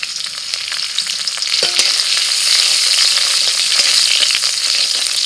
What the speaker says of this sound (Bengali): কড়াইতে সর্ষের তেল দিয়ে দিয়ে দিচ্ছি শুকনো লঙ্কা আর কাঁচা লঙ্কা রসুন কুচি